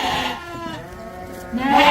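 Lambs in a large mixed flock of young, still-nursing ewe and ram lambs bleat close by, one wavering call fading and another rising at the end over steady background bleats.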